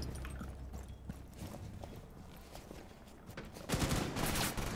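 Gunfire in the tactical shooter Rainbow Six Siege, a dense run of sharp shots and rattling bursts that grows louder and busier toward the end, with clattering footsteps mixed in.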